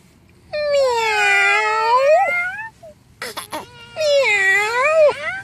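A toy plays a recorded cat meow twice, each a long, loud drawn-out mew, with a short clatter between them.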